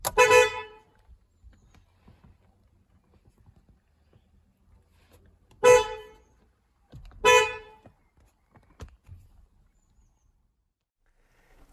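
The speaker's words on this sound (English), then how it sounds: "On the Mk8, the horn is live even with the ignition off" Horn of a VW Golf GTI Mk8 car sounding with the ignition off, heard as three separate loud harmonic blasts: one at the start, then two more several seconds apart, with quiet handling noises between them.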